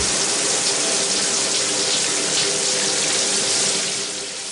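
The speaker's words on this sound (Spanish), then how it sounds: "Santi, prendeme la ducha que me pego un baño" A shower runs at full flow, a loud, dense hiss of spraying water that holds steady and eases off slightly at the end, with no voices.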